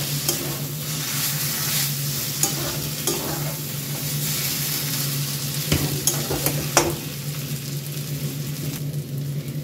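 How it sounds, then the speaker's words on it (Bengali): Spiced mashed potato filling with ground black pepper and chopped green chilli fries in a pan, a steady sizzle broken by scraping strokes of a spatula and a few sharper knocks. "মিনিট 2 ধরে বেশ ভালো করে আমি এই মশলাটা ভেজে নিয়েছি"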